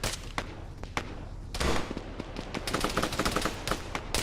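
Gunfire in the Arma 3 video game: a rapid mix of sharp, loud shots and bursts at varying distances, overlapping and irregular, with heavier sustained firing near the middle.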